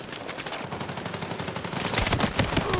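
Gunfire in the Battlefield 6 campaign: a rapid, continuous stream of automatic shots, loud and close, growing heavier and denser toward the end, with no talk.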